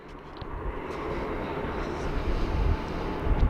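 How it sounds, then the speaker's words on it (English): A Qantas Boeing 737 lands at Sydney Airport on runway 34 right, its broad jet rumble swelling gradually and staying fairly distant, with a faint sound of people nearby. "we got a Qantas just landed"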